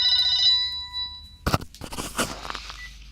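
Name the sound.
phone ringing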